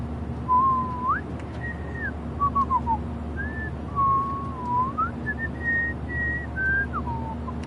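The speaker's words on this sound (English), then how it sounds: "Do you mind not whistling?" A character in the Life Is Strange video game whistles a wandering, pitch-gliding tune. The phrases come one after another over a steady low hum, clear and close.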